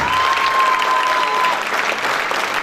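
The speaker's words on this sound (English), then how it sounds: "I really think that you all deserve a huge round of applause for that." Auditorium audience at an ASME student event breaks into steady, dense applause that fills the whole stretch, close and loud, with a thin whistle-like tone running through the first half.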